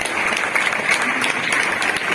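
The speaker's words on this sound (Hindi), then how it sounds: "इधर जो विद्यार्थी खड़ा है इसके जोरदार ताली बजाओ।" A crowd claps loudly for a standing student during a motivational speech at an institute, a continuous wash of applause from many hands, even in level from start to finish.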